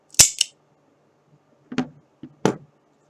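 A revolver being worked through a stoppage drill: a few sharp mechanical clicks and clacks in two clusters, close and crisp against silence.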